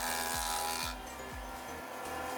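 Laminated wooden blocks for a white water paddle blade are being sliced by a saw, with a steady loud machine whine and rhythmic rasping cuts.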